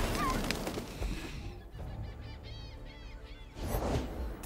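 Cartoonish bird honks from Legends of Runeterra game creatures, a run of goose-like calls mixed into busy game music and effects, with a louder burst near the end.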